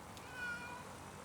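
A cat meows once in the video game Kentucky Route Zero, a short, soft, clear meow over a quiet game-music background with no talking.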